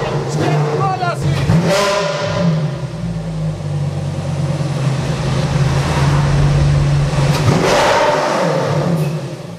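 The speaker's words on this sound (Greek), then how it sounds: "Audi R8 LMS, γνήσιο, ένα και μοναδικό στην Ελλάδα" An Audi R8 LMS race car engine runs loud and close, its note holding steady and rising in revs, with someone talking over it at points.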